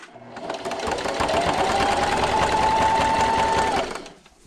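A sewing machine stitches strips of a table runner in one steady run, its motor whine rising as it speeds up and holding for a few seconds before winding down, close and alone.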